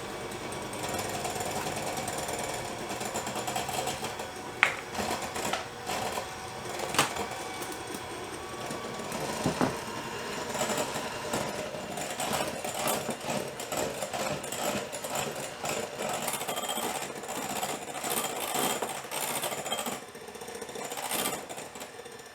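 An electric mixer beats egg whites with sugar for a meringue topping, a loud steady motor whir running nonstop with a few brief knocks against the bowl.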